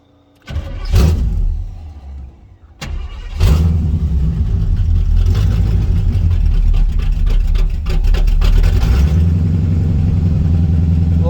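A small 305 V8 car engine cranks and catches, revs briefly, then settles into a loud, close, steady lumpy idle with no voices over it.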